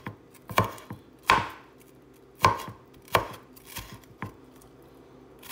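Bell peppers are chopped on a board for a meat marinade, with about six sharp knife strikes coming in an uneven rhythm and ringing out close by.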